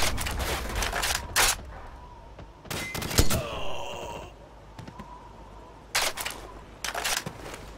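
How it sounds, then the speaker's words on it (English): Weapon reloading in Call of Duty Modern Warfare, several sharp mechanical clicks and clacks in separate bursts, with breathy groans and gunfire between them. "Cover me. I'm reloading."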